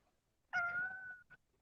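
A house cat meows once, a drawn-out clear cry lasting under a second, close and alone, followed by a short faint chirp.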